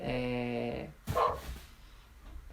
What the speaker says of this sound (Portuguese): esse barulho no fundo é o meu cachorro latindo